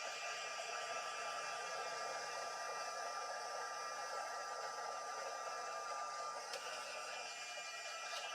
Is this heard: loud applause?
no